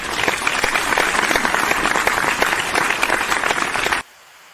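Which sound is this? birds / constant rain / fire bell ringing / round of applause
round of applause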